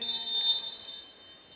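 A single bell struck once, a bright metallic ring with high sustained overtones that decays smoothly and quietly over a second and a half, heard alone without talk.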